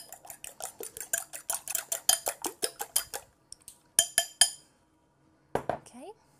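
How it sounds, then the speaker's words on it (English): Fork briskly beating eggs in a bowl for a classic Victoria sponge, a fast run of close sharp clinks against the bowl, pausing, resuming in a short burst, then a few final taps. "I'm just going to break them up with a fork"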